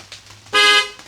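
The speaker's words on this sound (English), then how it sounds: "You'll hear if the car honks." A single short Tesla car horn honk, loud and close, sounding for about a quarter second against a quiet background.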